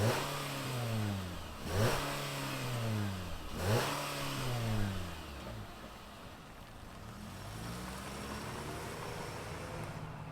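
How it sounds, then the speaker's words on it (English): A 2023 Nissan Sentra S with a four-cylinder engine revs twice in quick rising-and-falling sweeps, then settles into a steady, moderately loud idle heard up close. "let's fire it up and see this Sentra roll"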